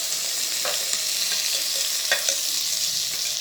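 Onions frying in a little ghee for a simple village-style salan, a steady close sizzle with a few soft stirring clicks and scrapes, no voices.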